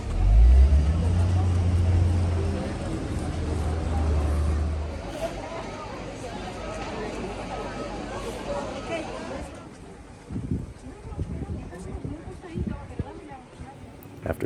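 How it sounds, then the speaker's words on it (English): At the Machu Picchu entry gate, buses idle and rumble loudly beside a milling crowd. Babbling voices and shuffling fill the scene, and the engine noise fades partway through, leaving scattered chatter and footsteps. "After being dropped off at the bus area, we were met with the commotion of the entry gate."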